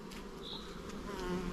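Dense, steady buzzing of many honeybees close by at the hive during rapeseed bloom, a continuous droning hum with occasional individual bees passing louder.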